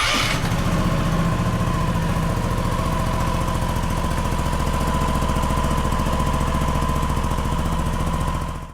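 A Honda Husky ADV 150 motor scooter engine rumbles steadily at idle with a rapid vibrating throb, loud and close, running continuously before cutting off at the end.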